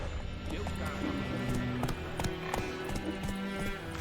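Hooves of Roach, Geralt's horse in The Witcher 3, clip-clop steadily in a quick trotting rhythm, moderately close, set within game ambience and a low musical drone.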